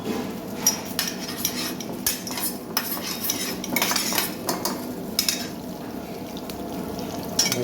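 Prawns and masala being stirred and sautéed in a pan for a Guntur prawns fry, with a utensil scraping and clinking against the pan in an irregular rhythm alongside a soft cooking hiss. No one talks.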